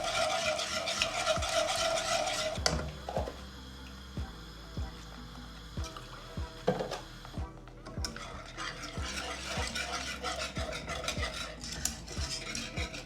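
A whisk stirs milk into a mac and cheese sauce in a pot, tapping and scraping the pan in a steady rhythm, close and fairly quiet, with no talking.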